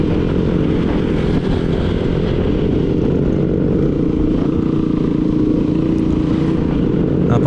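Group of four motorcycles riding together, a steady loud engine drone and wind rumble that stays constant throughout with no talking.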